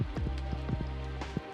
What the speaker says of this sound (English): I love the rain against the lo-fi